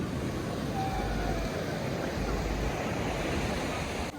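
Sea waves at a Goa beach form a continuous broad wash of surf noise, loud and close, rolling without pause for a few seconds.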